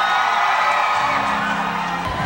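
A large crowd of fans screams and cheers for actress Maine at a Catholic awards event honoring Kalyeserye; shrill, sustained whooping fills the whole stretch at close, loud range.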